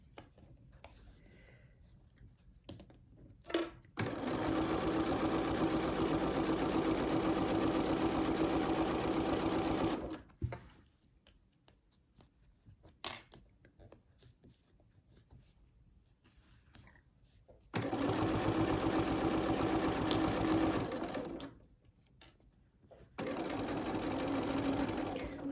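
A sewing machine stitches binding onto a quilt in two long, fast bursts of close mechanical whirring, separated by quieter pauses of handling and small clicks.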